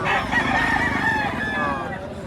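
A Sweater Gilmore gamefowl rooster crows once in a long, loud, wavering call at a market in Padre Garcia, Batangas, with other birds and faint voices in the background.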